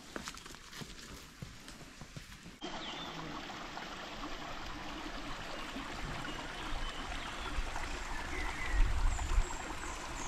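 Shallow water of the Kalikasan River in Mabitac, Laguna, Philippines rushes and burbles steadily, a continuous close wash of flowing water with no voices.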